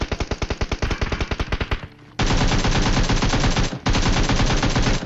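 Rapid automatic gunfire in the mobile shooter PUBG Mobile Lite, loud and close, with a stuttering burst of shots, a brief pause, then two long sustained sprays of fire separated by a short gap.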